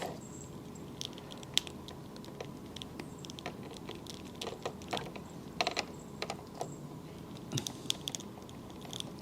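Plastic armor pieces click into place on a small action figure. A run of light, close clicks and handling taps plays over a quiet background hiss.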